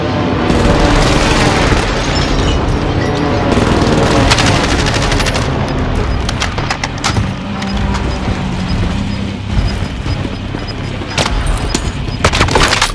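Dense Call of Duty Warzone firefight, loud rapid automatic rifle bursts and booming explosions packed almost continuously, with a clattering mechanical edge throughout and no pauses.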